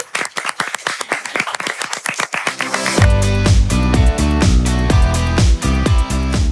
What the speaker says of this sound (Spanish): vamos a dar un fuerte aplauso a Gisela por estar con nosotras hoy